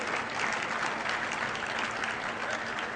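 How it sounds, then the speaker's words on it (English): A large conference audience breaks into big, sustained applause, a dense, continuous roar of clapping filling the room evenly for the whole stretch. "that's getting a big applause in case you can't hear it over there"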